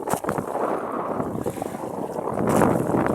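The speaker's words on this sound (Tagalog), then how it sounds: "kahit ganito kalaki yung alon, kahit mahangin, okay lang" Steady broadband wind rushing over a boat with water sloshing and splashing against the hull, fairly loud and continuous, swelling toward the end.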